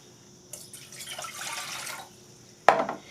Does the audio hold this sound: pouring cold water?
yes